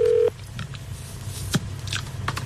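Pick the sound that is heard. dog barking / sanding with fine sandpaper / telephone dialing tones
telephone dialing tones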